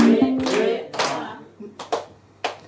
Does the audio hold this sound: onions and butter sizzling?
no